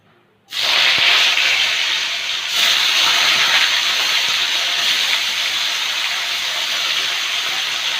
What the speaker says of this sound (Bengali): নামিয়ে নেব ফুলকপিটা। ফুলকপিটা ভেজে নেব।